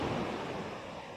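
Big ocean waves at dawn off the coast of Naic, Cavite, a steady broad rushing roar of surf, loud and continuous with no talk.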